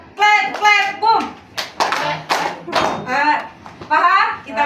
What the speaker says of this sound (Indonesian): Kalau Ibu bilang clap, kalian tepuk tangan. Kalau bilang boom, kalian tepuk meja.